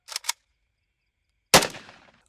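Two quick gunshots close together, a pause, then one louder, nearer shot with a reverberant tail that fades out.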